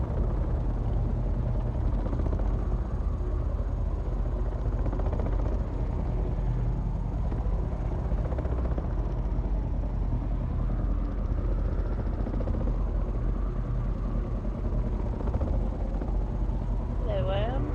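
Throaty engine of the carrier vehicle in the Windrose video game, heard from outside while sitting in another vehicle: a steady, loud, continuous drone running the whole time with people talking over it.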